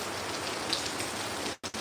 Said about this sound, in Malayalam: അത്യാവശ്യം നല്ല രീതിയിലുള്ള മഴ പെയ്യുന്നുണ്ട്